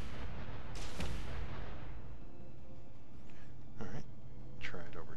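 Rockets fire at air-tight hangar doors in Space Engineers, loud booming blasts that roll and echo at the start, followed by a couple of lighter bursts, with a voice talking over the game sound.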